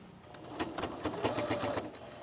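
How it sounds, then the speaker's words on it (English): A sewing machine stitches a blouse collar, running steadily for a couple of seconds as a close, even, rapid mechanical whirr with rhythmic needle clatter throughout. "we want to sew ever so slightly to the left of the stay stitching"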